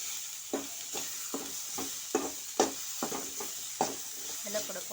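Garlic sautéing in a hot pan with tomatoes for an ayila (mackerel) fish curry, a steady sizzle broken by regular stirring knocks and scrapes of a spoon about once a second, close and with no talking.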